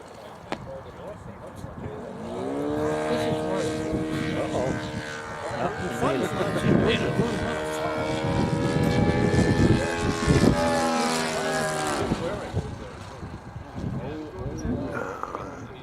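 A radio-controlled model airplane comes in to land at a fun-fly event, its propeller engine droning and shifting pitch as it passes, while someone talks over it.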